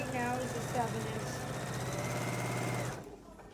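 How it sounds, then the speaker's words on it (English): A sewing machine runs steadily, stitching 1.5 by 7 inch strips for a quilt's inner border, a close, even mechanical whir under someone talking, stopping after about three seconds. "I'm sewing right now"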